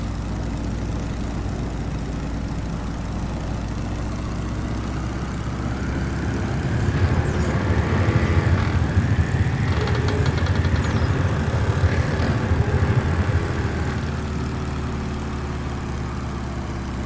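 A steady engine drone from a PT-17 Stearman biplane in Microsoft Flight Simulator fills the scene, swelling midway with faint airframe creaking and groaning tones rising above the hum, then easing back down.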